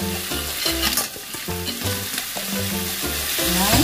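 Clams frying in a pan for spaghetti alle vongole, a busy steady sizzle with stirring and scraping throughout, fairly close and loud, no voices.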